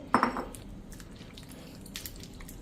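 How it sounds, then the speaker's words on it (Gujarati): Radish pieces are washed in water in a kitchen vessel. A sharp, close clatter and splash comes first, followed by quieter drips and faint sloshing. "હવે આમાં આપણે પાણી નાખી અને એકદમ સરસ ધોઈ નાખવાના છે"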